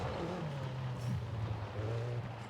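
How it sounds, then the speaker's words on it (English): Honda S2000 with simple bolt-on modifications running with a high, whining turbo sound like an RC car, a steady droning engine note holding level throughout with a brief rise near the middle. "It sounds like it just literally sounds like an RC car. That's what it reminds me of with that turbo sound."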